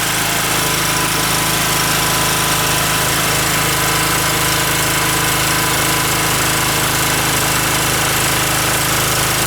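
OKAY 2.8 kW petrol generator with copper winding and AVR stabilisation running under load, a loud, steady, close engine drone with a rattling mechanical buzz that never lets up.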